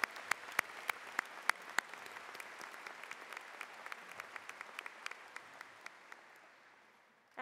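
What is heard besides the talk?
audience applause at commencement ceremony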